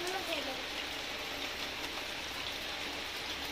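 Rain falls steadily outdoors on a cold winter morning, a faint, even hiss of drops on surfaces that keeps up throughout without a break.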